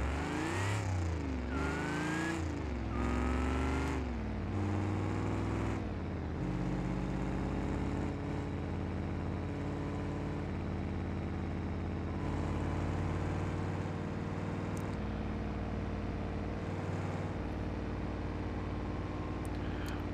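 A damaged, failing car engine in the BeamNG.Drive driving game, a Roadkill-style project car, revs up repeatedly in rising and falling surges, then settles into a loud sustained high-rpm drone.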